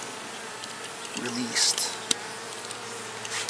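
Honeybees buzz steadily around a frame of queen cells in an open hive, a dense close drone with individual bees passing near, while a person speaks briefly over it.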